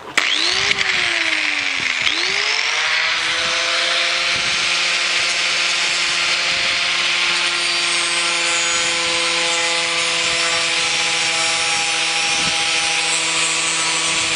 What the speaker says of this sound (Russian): шлифовать-то она шлифует, но не так быстро, как хотелось бы.